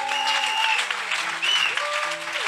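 A church congregation applauding during a Sunday service, a sustained wash of clapping with voices singing or calling out over it.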